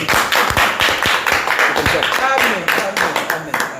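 A church congregation claps hands in a quick, rhythmic series of sharp, close claps, with voices mixed in among them.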